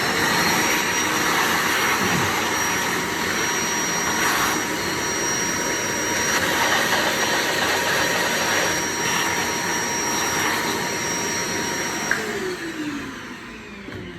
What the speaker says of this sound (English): we'll just quickly vacuum the inner chamber